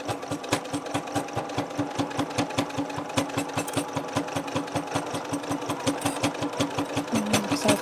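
A sewing machine stitches fabric with the needle down, running in a fast, steady mechanical chatter of evenly spaced clicks that holds a constant pace at close range.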